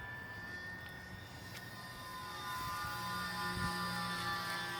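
A Horizon Hobby P-47D UMX electric RC model airplane flies at full throttle yet struggles to stay aloft, giving a thin steady high-pitched motor whine that grows a little louder partway through, with wind noise underneath.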